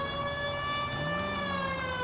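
An emergency vehicle siren in the video game L.A. Noire wails steadily over a low engine rumble, loud and close, with no talk.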